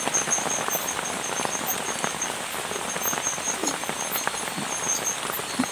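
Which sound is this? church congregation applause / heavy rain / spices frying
heavy rain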